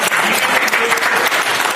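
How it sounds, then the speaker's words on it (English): Brief, loud, dense clapping from an audience at an investor seminar, steady throughout the short burst. "Let's give him a round of applause."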